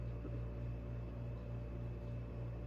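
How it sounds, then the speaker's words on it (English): A constant low droning hum of an air conditioner fills the background, steady and unchanging throughout. "I'm sorry if you can hear the AC in the background."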